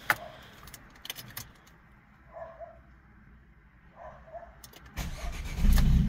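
A Dacia Duster is started with the key: keys jangle and click in the ignition, with a few faint whirring attempts before the engine catches loudly near the end, all close to the microphone.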